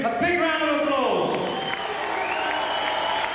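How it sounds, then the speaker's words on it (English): A boxing crowd at Wembley applauding a fighter leaving the ring, steady clapping and cheering from a large arena heard beneath a voice talking over it. "Please give him a big round of applause"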